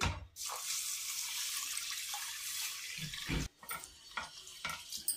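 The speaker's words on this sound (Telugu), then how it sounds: "బియ్యం వేసుకుని 1కి 2 సార్లు కడుక్కోవాలండి" Water splashes and swishes in a container as rice and moong dal are rinsed, with running water underneath and a brief pause partway through.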